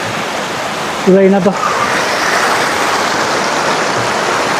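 Strong river current rushing beneath a bridge at Kayrilaw near Nasugbu, heard as a steady broadband roar that holds throughout, with someone speaking briefly over it near the start.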